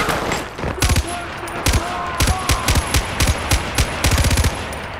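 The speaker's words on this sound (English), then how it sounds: "Machine gun fire!" Rapid bursts of automatic gunfire in Far Cry 4 crack out in short, repeated volleys across a noisy combat scene, loud and close, with brief gaps between clusters of shots.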